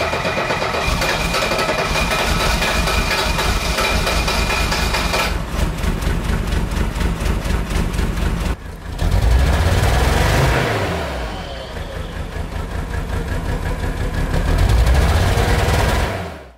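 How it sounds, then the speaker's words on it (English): An older Mercedes diesel engine runs rough and smoky with a suspected EGR fault, a steady loud clattering idle with uneven pulses and a couple of brief revs, close to the microphone. "it's just a rough sounding diesel engine"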